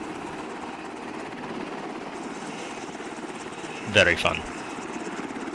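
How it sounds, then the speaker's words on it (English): A helicopter providing fire support in a tactical video game drones steadily in the background, with a brief sharp burst of noise partway through while a person speaks briefly over it. "fire support from the helicopter"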